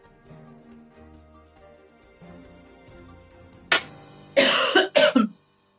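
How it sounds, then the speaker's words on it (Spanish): Three harsh coughs from one man in a news studio, arriving in a quick burst near the end after a stretch of low background hum: one sharp cough, then two louder, longer ones back to back. "qué complicado estamos con la tosecita de miércoles"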